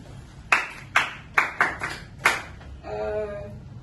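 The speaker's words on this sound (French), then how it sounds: "On applaudit pour Annie." A few slow, separate handclaps ring out in a classroom for a student, about six sharp claps with short echoes, followed by a brief tonal hum.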